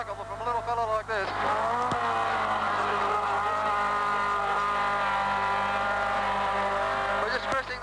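A race car engine screams at just over 8,000 rpm during the 1980 Hardie-Ferodo 1000, a loud sustained high-pitched howl holding steady, heard from onboard with faint commentary beneath it.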